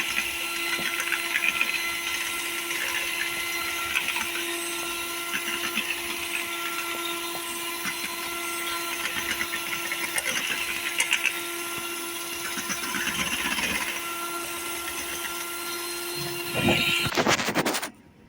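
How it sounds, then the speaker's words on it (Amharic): Electric grinder milling sugar, milk, oil and baking powder, a steady high whine running unbroken for many seconds before cutting off abruptly at the end, loud and close with no talk. "እንደዚህ ይፈጫል ማለት ነው። በደንብ ነው መፈጨት አለበት።"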